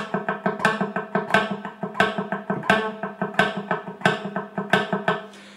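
Muted single guitar string picked hard with the fingertip-muted pick in a quick, choppy funk lead rhythm, each note short and percussive with sharper accented hits, played alone and close.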